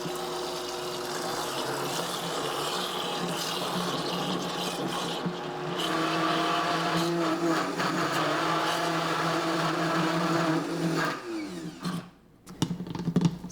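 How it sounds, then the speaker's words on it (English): A high-speed blender whirs continuously while blending chocolate silk pie filling, a steady loud motor drone that shifts slightly in pitch midway before sputtering and stopping near the end. "So it's not quite done blending yet"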